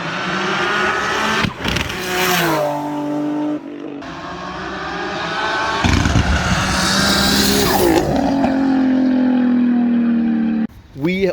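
A 1000 hp turbocharged Infiniti G35 coupe running about 26 psi of boost through a 4-inch custom exhaust, engine revving and pulling hard, loud and close, with rising gear-by-gear surges and a brief drop between shifts.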